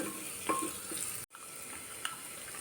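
Half a kilo of mutton tipped into a hot frying pan gives a steady, moderately close sizzle, with a brief cut in the middle and a faint clink near the end.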